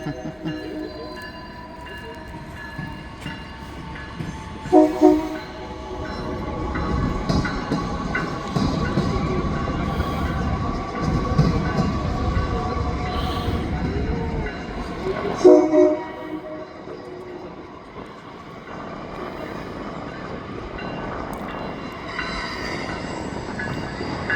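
A train bound for Millennium pulls out of the station, rumbling and clattering steadily with squealing wheels and two sharp louder jolts, fading somewhat toward the end.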